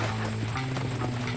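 Horse hooves clip-clopping at a gallop in Red Dead Redemption, a steady close rhythmic beat of impacts over a constant low rumble, with no talking.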